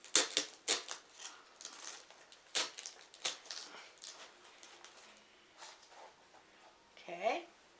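Scissors snip apart a Dollar Tree floral piece for a St. Patrick's Day arrangement, giving a quiet, close series of crisp cuts and small rustles spread irregularly across the moment.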